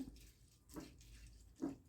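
White flattened rice (aval) is rinsed in plain water, giving faint, close sloshing splashes in about three brief surges with quiet gaps between.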